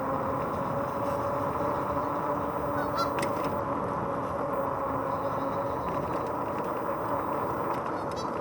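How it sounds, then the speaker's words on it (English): Geese honk repeatedly from a short distance near boat docks in a wooded park, the calls sitting over a steady bed of wind and motor noise from a moving e-bike. "A lot of geese out here."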